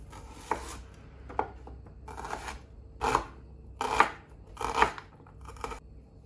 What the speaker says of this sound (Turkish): Əvvəlcə soğanı doğrayıram.